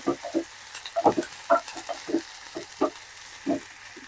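Ginger garlic paste fries in a pan for egg biryani: a soft sizzle sits under a run of short, uneven scraping and stirring strokes, close and moderately loud.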